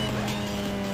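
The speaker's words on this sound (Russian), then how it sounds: "Вы слышали, как там трафик какие звуки издавал?" Traffic cars in Need for Speed: Most Wanted, a steady droning engine hum with a sustained tonal whine, loud and close throughout the brief moment.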